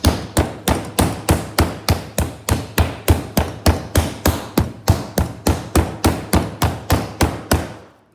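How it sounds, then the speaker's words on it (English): A meat pounder strikes a pork roast under plastic wrap in a fast, steady series of about two dozen loud, close thuds, each one sharp and evenly spaced, with no talking. "And then we're gonna pound it thin."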